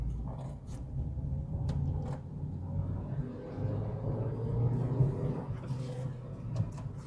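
Hyundai i20 Sportz (2019) car driving in second gear, a steady low engine and road rumble continuous throughout, with a faint rising engine tone and occasional light rattles.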